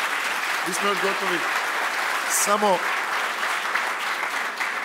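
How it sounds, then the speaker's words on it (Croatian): A conference audience at an insurance technology panel claps in a broad, steady round of applause, with a voice briefly speaking over it. "Molim vas jedan aplauz"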